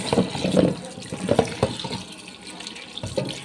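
Tap water runs steadily into a sink, splashing and gurgling, with a few clinks and knocks of grapes being handled under the stream.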